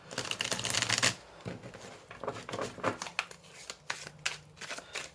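Oracle cards being shuffled by hand during a tarot-style reading, a dense burst of riffling for the first second followed by softer, scattered flicks and taps.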